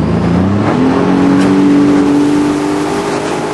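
A jet ski engine on Shasta Lake revs up loudly near the rider, its pitch rising and holding in a steady high whine across the whole stretch.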